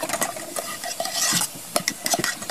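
Homemade zero-waste dish soap is whisked hard in a container, giving rapid, energetic clattering and sloshing strokes up close, with no one talking.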